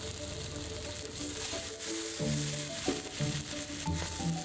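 Oysters pan-frying for ginger and scallion oysters give off a faint, steady sizzle in a hot pan, alone and without voices.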